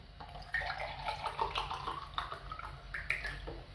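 A short, soft run of water pouring into a glass, a quiet continuous trickle and splash heard close up with no talking.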